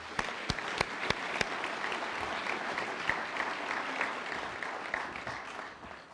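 Audience at the Florida Bar Convention general assembly applauds for Don Workman, a few sharp close claps at first, then a steady, moderately quiet wash of clapping that tapers off at the end.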